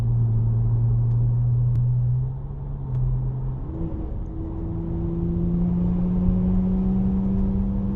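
A 2024 Porsche 911 Turbo S Chrono driven through traffic, its engine a loud steady drone that dips as gears shift and then climbs again, heard from inside the car with no talking.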